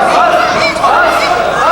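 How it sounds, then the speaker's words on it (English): A wrestling crowd at a 2003 IWR heavyweight title match keeps up a steady, loud rhythmic chant of "huff, huff," sustained and unbroken with shouting mixed in. "Jimmy Jacobs and some of the crowd saying, huff, huff"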